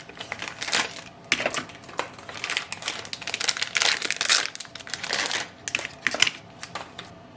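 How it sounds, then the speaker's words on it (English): Plastic packaging crinkles and crackles in irregular bursts as printer ink cartridges are pulled free, close and fairly quiet with no talking. "Take the ink cartridges out of the plastic packaging."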